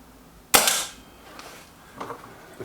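A single sharp crack from a Kral NP02 air rifle, close and loud, fading over half a second, followed by faint small knocks afterward.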